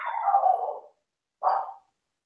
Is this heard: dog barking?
yes